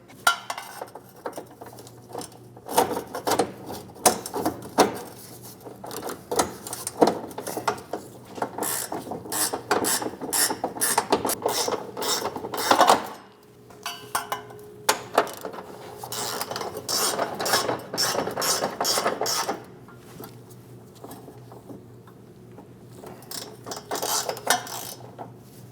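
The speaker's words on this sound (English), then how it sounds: "Snug the bolts down." A ratchet snugging down fuel tank bolts on a 2016-2025 Chevrolet Malibu 1.5L L4, with rapid clicking bursts in repeated runs, a short pause midway and metallic clatter between strokes, close and loud.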